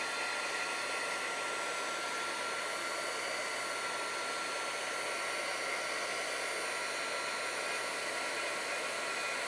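A hair dryer blows steadily and continuously to dry alcohol marker ink on front-size cardstock, a constant even whoosh with no voices.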